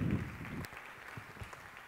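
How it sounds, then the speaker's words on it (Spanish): Scattered audience clapping at a digital journalism award ceremony, following a brief low rumble at the start; uneven, fairly sparse claps at moderate distance, rather quiet. "Les pido nuevamente un aplauso para él, para CMI"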